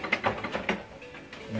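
An HP OfficeJet Pro 7720 all-in-one wireless printer running its internal mechanism during setup, giving brief ratcheting, whirring and clicking bursts close by.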